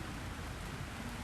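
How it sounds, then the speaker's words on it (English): Steady, dense hiss of rain falling, an even wash of drops with no breaks, no voices. "the fact that it is raining, we are enjoying the rains"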